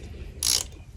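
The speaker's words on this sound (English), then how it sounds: "the bolt, the head was all stripped, so I had to pull out my bolt extractor" A bolt extractor grips and turns a stripped drain bolt on a 1998 Yamaha YZ400F motorcycle engine, making one short, close burst of ratcheting metallic clicks.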